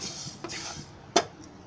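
Roasted fenugreek seeds are moved out of a pan in the kitchen, making a couple of light metallic scrapes and one clear clink of a utensil against the pan. The sounds are close and quiet, with no talking.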